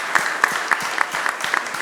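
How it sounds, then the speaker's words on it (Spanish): Applause for the technical team at a medical presentation on arterial pathology, heard as a short burst of steady, evenly spaced clapping at moderate volume, with no talking over it. "un fuerte aplauso"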